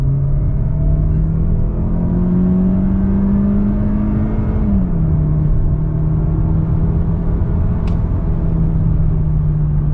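Mazda CX-30 Skyactiv-X 180 hp compact SUV engine revved hard in sport mode toward 7000 rpm, a loud close steady roar that holds high, dips briefly and then sustains alone without talk.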